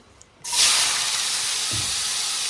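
A tadka hits hot oil and erupts into a sudden, loud, steady sizzling hiss that carries on without a break after a brief quiet moment, close and with no talking.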